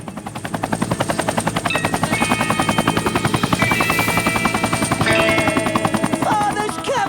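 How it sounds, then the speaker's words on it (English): A cartoon company helicopter whirs steadily close by, a loud rapid rotor chop running throughout with brief tonal effects layered over it. "Father's company chopper!"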